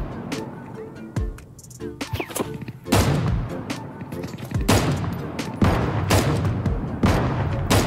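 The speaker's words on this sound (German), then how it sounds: "Ja, da schießt noch einer." Repeated gunfire in the shooter game Deadside, a cooperative hardcore match: sharp shots and bursts pop in clusters over several seconds, some close and loud, others more distant, with brief pauses between volleys.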